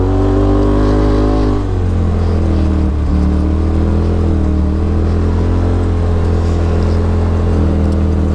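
A Polaris RZR XP Turbo on Maxxis Rampage tires driving on gravel, its engine droning loud and close with a steady tone that rises and dips as the throttle changes, under a rough rumble from the tires.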